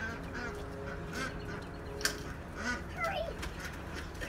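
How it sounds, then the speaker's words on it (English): Domestic geese honking as they are let out into a yard with other waterfowl, heard as scattered, moderately faint honks and calls over steady background noise and murmured talk. "All right, Tyler, let's let those geese out"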